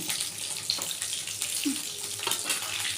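Topse fish fry in spiced batter with a continuous, watery crackle and hiss. Some brief louder pops rise above the even bubbling.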